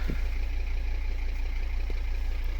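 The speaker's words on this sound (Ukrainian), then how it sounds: "Ах, як я люблю звук цього двигуна" A Volvo estate car engine idles with a steady low rumble and even pulsing, continuous and close.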